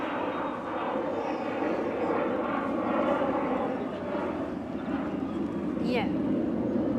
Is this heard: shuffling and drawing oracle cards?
no